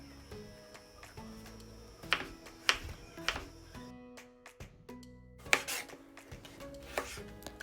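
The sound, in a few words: knife chopping cucumber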